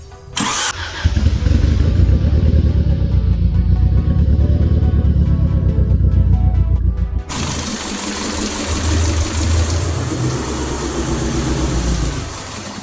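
A rebuilt DSM car engine cranks and catches on its first start after a long build, then runs loud and rough with an uneven misfiring chug close by.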